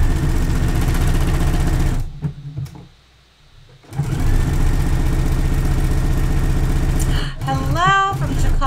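Sewing machine running steadily to stitch the crotch seam of a swimsuit, a loud rapid mechanical hum that stops briefly, then resumes, with a short whirring sweep near the end.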